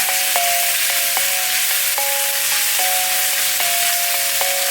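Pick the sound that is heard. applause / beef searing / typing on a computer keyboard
beef searing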